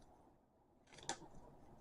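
Scissors snip a strip of rubber feet for a Kinesis Advantage360 keyboard in one short, close, crisp cut, set against an otherwise very quiet background.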